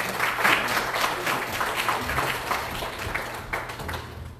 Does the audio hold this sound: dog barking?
no